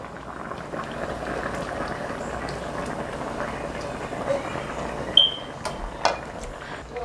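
A pot of sweet pork with pickled mustard greens simmers and bubbles in a steady low burble throughout, with a few louder pops and clinks near the end.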